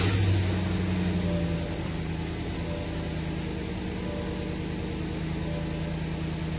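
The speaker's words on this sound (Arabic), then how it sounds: "أشغل لكم السيارة، وطبعا تشغيل السيارة عن طريق البصمة، أسمعكم صوت المحرك." A 2021 GMC Yukon Denali engine, started by fingerprint, idles with a steady low hum and faint mechanical whir, slightly louder at first before settling, close by and without speech.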